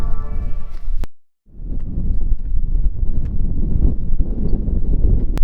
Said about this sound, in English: it is windy as again today